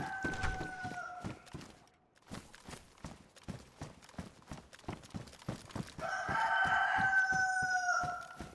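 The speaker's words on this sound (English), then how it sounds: "Shut up, chicken." A chicken in the survival game DayZ clucks and crows near the player, over steady rhythmic footsteps, growing louder and more insistent toward the end.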